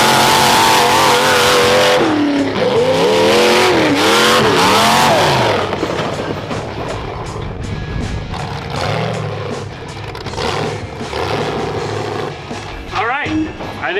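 A demolition derby truck's engine revs hard for a burnout, loud and close, with rising and falling roaring sweeps, then rough idling and sputtering bursts as voices talk over it.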